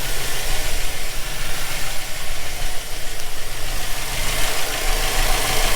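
A 2007 Silverado truck engine with failed lifters idles loudly, steadily and continuously up close while warming up, a constant rumbling drone with a slight knocking texture and no pauses.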